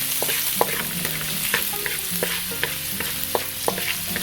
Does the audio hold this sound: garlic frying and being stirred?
yes